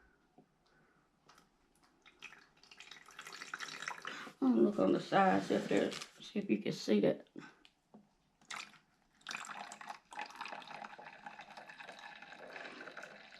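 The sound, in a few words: water being poured into a space heater humidifier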